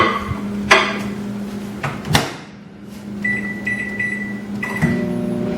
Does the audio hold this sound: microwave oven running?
yes